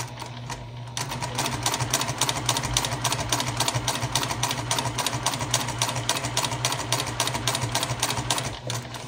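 A sewing machine runs steadily, stitching a fabric heart coaster with a fast, even mechanical chatter that holds at close range for several seconds, without pauses.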